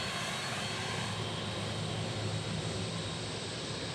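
A FedEx Boeing 767 jet taxiing at Memphis International Airport, a steady broadband engine roar that holds even and continuous at moderate distance, with no speech.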